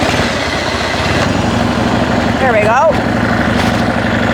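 A hot 1994 Harley-Davidson Dyna motorcycle engine with a modified exhaust runs at a loud, steady idle close by, while someone speaks briefly over the rumble.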